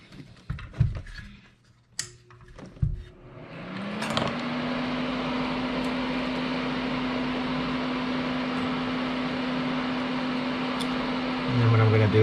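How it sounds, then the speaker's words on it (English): Fume extractor fan on an electronics repair bench switching on after a few clicks and handling knocks, then humming steadily with a constant whirring tone and airy rush that continues alone to the end. "Bring in the fume extractor."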